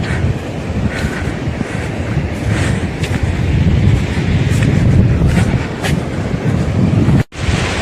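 Cold wind blows hard at Uncha Kotda beach, a loud, continuous rushing roar buffeting the microphone with a brief dropout near the end; no one speaks.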